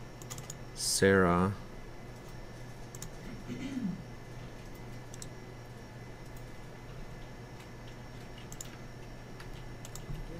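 Quiet, rapid keystrokes of a password being typed on a computer keyboard, soft ticking under a steady background hum, with a short spoken word and a brief electronic tone near the start.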